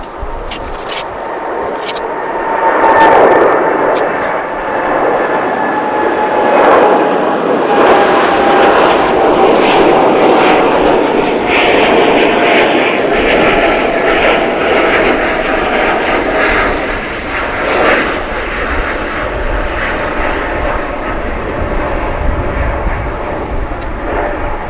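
An airplane taking off at DFW International Airport gives a loud, steady engine roar that fills the whole stretch, swelling slightly early on and holding broad and constant, with no one talking.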